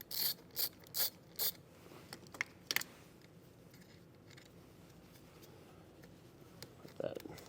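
A ratchet turning a 10mm battery terminal nut, heard as a few quick clicking bursts up close, followed by quieter handling noises in a workshop setting.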